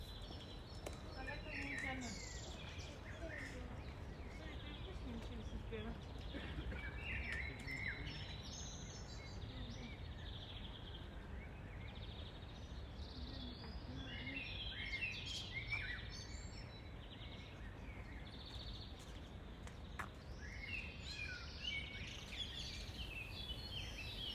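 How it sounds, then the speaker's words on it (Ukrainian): Birds chirp and twitter faintly in an open city park in Podgorica, with a steady background hum of insects and distant ambience. "пташки просто заливаються"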